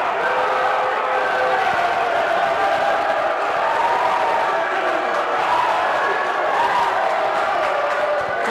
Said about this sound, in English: the refs are really hearing it from this very large crowd we have tonight